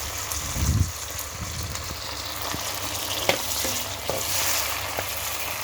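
Onions and tomatoes frying in a pan as the base for a fish curry, a steady soft sizzle with occasional light stirring clicks, close and alone.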